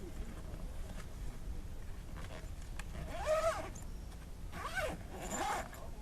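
Soft zipper pulls closing a camping bag outdoors, two or three short rising zips set against steady wind and a low background rumble.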